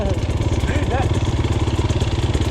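A Kawasaki KLX140 dirt bike engine runs close by off-road with a fast, steady pulsing putter and a faint mechanical clatter throughout.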